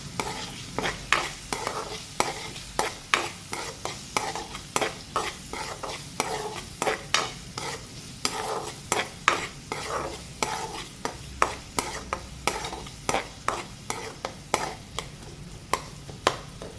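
Onions and turmeric being stirred in a frying pan for a cabbage potato curry, with a steady rhythm of spoon scrapes repeating about every half second over a low sizzle, no talking.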